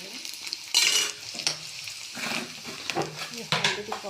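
Small onions fry in hot oil in a pan, sizzling and crackling while a spoon stirs and scrapes in uneven bursts, close and fairly loud.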